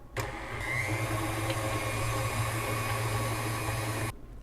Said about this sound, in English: just turn on your mixer and let it do all the work to cream the butter and sugars together.